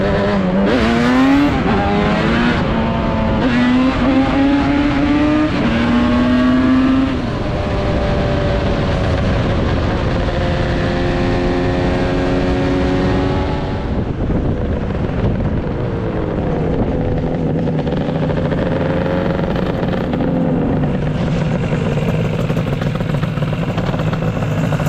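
A Yamaha RD400 Daytona Special two-stroke motorcycle revs hard through the gears while being ridden, its rising engine tone dropping at each shift, with steady wind rush throughout and no talking.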